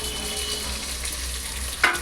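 Onions frying steadily in a pan for mushroom bhath, a soft continuous sizzle with a brief utensil scrape near the end.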